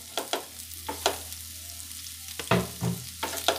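Potatoes stirred with red chilli powder and garam masala in a hot pan for vada pav filling, with scattered scraping stir strokes and light sizzle, louder clatter near the end, no talking.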